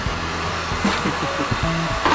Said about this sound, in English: He's drying his hair with his hair dryer.